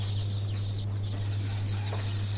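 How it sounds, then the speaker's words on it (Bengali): Two-day-old desi chicken chicks, about 160 together in a pen, give faint high cheeping peeps scattered throughout over a steady low electrical hum. "এইখানে 160টা বাচ্চা আছে, দেশি মুরগির বাচ্চা।"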